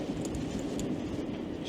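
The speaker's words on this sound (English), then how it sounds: "There's another tram." A tram rolls along the tracks near Bispham Village, a low, continuous rumble with faint rail rattles, heard from a distance and quite quiet, without speech.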